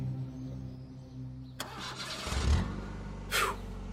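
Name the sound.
car engine starting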